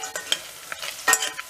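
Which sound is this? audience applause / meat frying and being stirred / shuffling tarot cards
meat frying and being stirred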